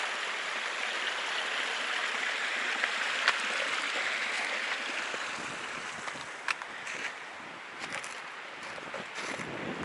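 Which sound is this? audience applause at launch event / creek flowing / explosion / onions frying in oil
creek flowing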